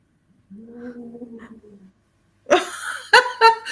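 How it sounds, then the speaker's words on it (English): Three house cats barge into a room, giving a few drawn-out meows before a burst of louder, rough noises and thumps close by. "Sorry, my cats have just come barging in."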